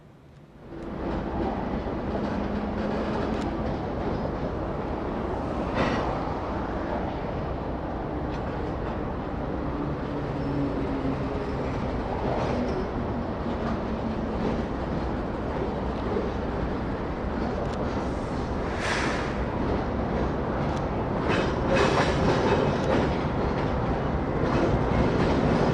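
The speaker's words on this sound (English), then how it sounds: "General Electric AC 4400 number 8549 is seen making its way into the yard to attach to the rear of a manifest." A General Electric AC4400 locomotive rolls into a rail yard in the Alberta plains, a steady low diesel rumble with rail clatter and occasional clanks throughout, growing slightly louder toward the end.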